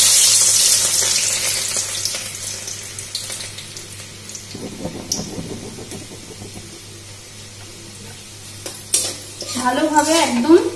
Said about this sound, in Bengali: এবারে ওই রসুন কুচিটা তেলে দিয়ে দেবো।